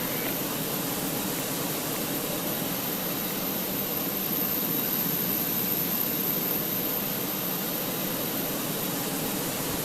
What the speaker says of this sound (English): Ignition on for the engine start.